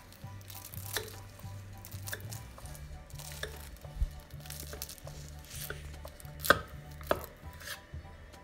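Crisp crackles and crunchy snaps of flaky baklava-dough burma dessert being cut, scattered irregularly over a faint background hum, close and fairly quiet.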